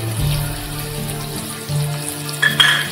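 Chopped onion dropped into hot oil with asafoetida, giving a continuous sizzling fry with a few louder bursts and light clatter, close by and free of speech.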